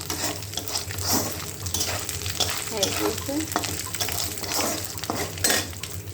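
Dried loitta fish (Bombay duck) fries in a pan and is stirred throughout: a constant close sizzle mixed with scraping and clinking against the pan, and no talking.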